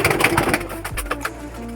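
A pigeon, an Andhra Kalshira, gives low cooing calls at close range, with faint handling noise around it and no clear speech.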